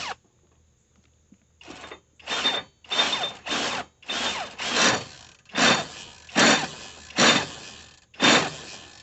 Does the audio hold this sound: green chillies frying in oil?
no